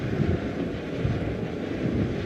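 A HAL light utility helicopter flies past at the Aero India air show in Bengaluru, its steady engine and rotor roar broad and fairly loud with wind noise.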